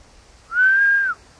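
A single clear sustained whistle from a person calling a dog outdoors in winter, steady in pitch for about half a second, heard alone against quiet background.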